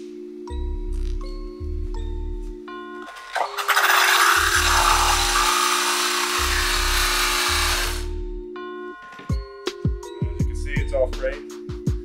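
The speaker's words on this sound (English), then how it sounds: "we're going to take our wheel, use our rake, and fray the edges" A rake is dragged across a new buffing wheel pad to fray its edges before polishing aluminum, giving a loud, steady abrasive rasp of about five seconds, framed by tonal hum and short clicks before and after.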